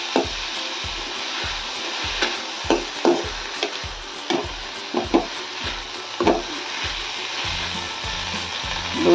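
Onion and vegetables cooking in a pan for a traditional Kolhapur-style ranbhaji, with steady sizzling and repeated stirring scrapes in an uneven rhythm, close and moderately loud, no talking.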